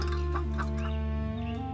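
Chickens cluck in short bursts over a steady low hum, the calls close and fairly loud throughout.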